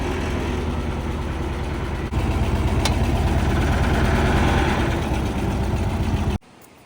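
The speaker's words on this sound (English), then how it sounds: "Okay, so we got the tractor running" A tractor engine idles steadily and close, with a low rumbling drone that holds level before cutting off abruptly near the end.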